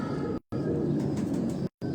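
Pigeons coo softly in a steady murmur, mixed into dense outdoor background noise, with two brief dropouts cutting the sound.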